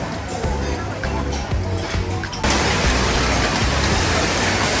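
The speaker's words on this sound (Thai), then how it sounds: "ไม่เคยได้ยินเสียงสังกะสีมีฝนตกมาครับ" Rain falling on a corrugated zinc roof, a dense, steady hiss of drops drumming the metal that swells louder partway through, with faint background sounds beneath.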